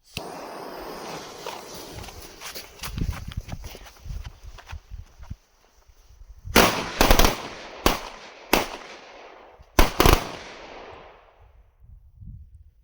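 Several SZAKAL firecrackers, sulphur bangers bundled together, go off outdoors in a string of sharp, loud cracks, some overlapping in quick bursts, after a stretch of rustling and handling noise.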